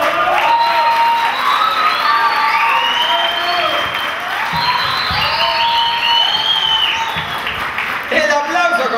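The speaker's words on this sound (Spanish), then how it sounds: "El aplauso con fuerza, por favor" Applause and cheering at a quinceañera party, a loud, sustained mix of clapping, whistles and excited shouts, with many voices calling out over the crowd throughout.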